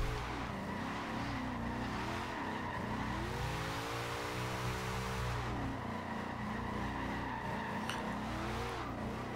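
A Chevrolet Monte Carlo SS slides through a sustained drift in Forza Horizon 2, its engine droning steadily while loud tire squeal rises and falls under the revving, with a long continuous screech in the middle of the run.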